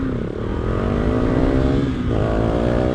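A Husqvarna Svartpilen 401 motorcycle pulls away from a traffic light, its single-cylinder engine note rising steadily as it accelerates through the revs, heard close from the rider's position with wind noise underneath.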